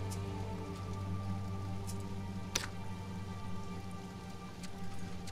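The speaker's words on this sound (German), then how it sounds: "Und es regnet einfach immer noch." Rain in the video game Sheltered falls as a steady, soft patter under a low, droning music bed, with one sharper tick partway through.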